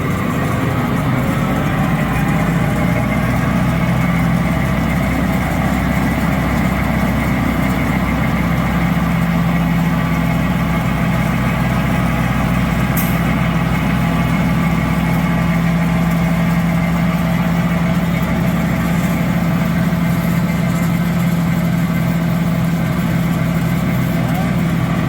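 A 2009 Freightliner M2 60ft bucket truck and chipper combo runs with a loud, steady diesel drone and low rumble, held at a raised throttle throughout, close by.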